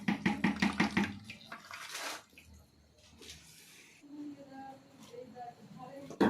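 Grated bottle gourd squeezed by hand, water splattering and dripping into a bowl in a home kitchen, with a burst of wet pattering early on, then softer trickles beneath someone talking.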